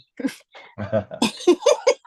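A short burst of coughing and throat sounds, several quick rough bursts close to the listener, with no talking.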